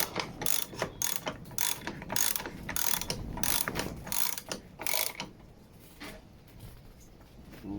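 A socket ratchet tightening a 19mm nut on a lawn mower produces rapid, close clicking bursts in repeated strokes, then goes quieter near the end.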